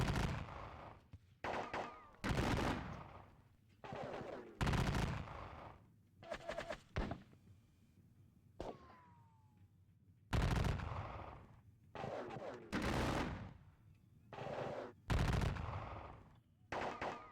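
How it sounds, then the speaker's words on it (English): Musket volleys crack out in a Napoleonic war video game, loud bursts of massed gunfire in irregular clusters separated by quieter gaps, with a faint whistling streak between volleys. "Return the fire."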